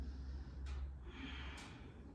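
A deep inhale held in a yoga fish pose, two long airy swells of breath rising and fading over a steady low hum, close and soft, with no talking.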